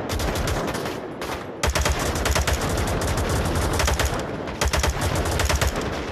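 Gunfire in the VR shooter Onward: loud, close bursts of rapid automatic fire with brief pauses between volleys, sustained over several seconds.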